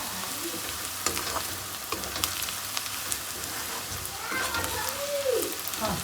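Onions frying in a pan in a home kitchen, a continuous crackling sizzle with occasional stirring scrapes, while people talk quietly nearby.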